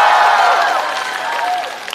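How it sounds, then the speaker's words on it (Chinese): A stand-up comedy show audience cheers and applauds, a dense, loud wash of clapping and shouting voices held steady throughout. "来欢呼吧，欢呼吧！"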